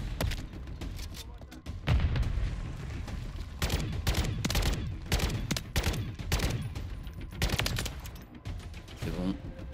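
Rapid bursts of automatic gunfire and heavy shots in a Call of Duty: Modern Warfare 3 firefight, loud and dense with explosive thumps, with a voice speaking French in between.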